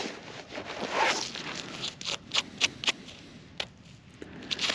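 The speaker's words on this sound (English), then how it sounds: "This is a zipper." A metal zipper found metal detecting among Civil War relics is tugged and worked in a quick series of sharp, rasping zips, close up and fairly loud, with no talking.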